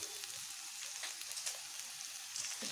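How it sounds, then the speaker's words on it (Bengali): Okra frying in a pan makes a faint, soft crackling sizzle with scattered tiny pops, steady throughout. "ঢ্যাঁড়সগুলোকে আমি আরেকটু ভেজে নেব"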